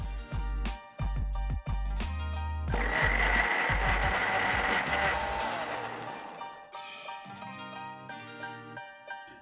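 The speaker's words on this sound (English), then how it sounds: "I'm going to add little water and blend it into a fine paste." A mixer grinder jar whirs for several seconds as it blends chutney masala with a little water into a fine paste, with a loud, steady grinding roar over background music.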